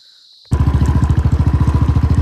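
A motorcycle engine bursts in after a brief quiet and pulses in a fast, steady, loud thump as the bike climbs a steep rough track up toward Rohtasgarh Fort.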